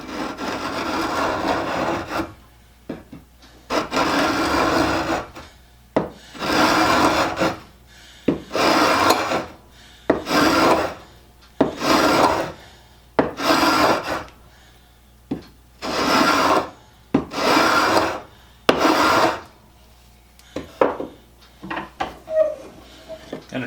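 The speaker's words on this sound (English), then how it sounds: "Now I'm going to take the scraper on this really rough surface." A hand scraper fitted with a steel banding blade works across a very rough wood surface, giving about a dozen loud, raspy scraping strokes in a steady back-and-forth rhythm, close up and with no talking.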